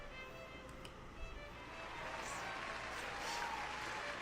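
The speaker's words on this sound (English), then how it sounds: "There's a loud applause, cheers, and even some hoots." Crowd applause with cheers and hoots from party guests at an evening event in the video game The Letter, a steady wash of clapping that swells slightly and continues without pause.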